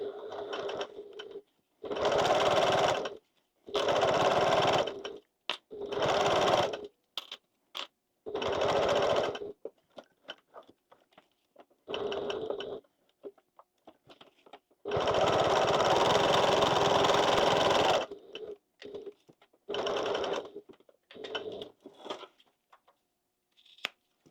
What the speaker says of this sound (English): So what I'm going to do now is sew down both sides of those, and I may as well sew over the edge as well.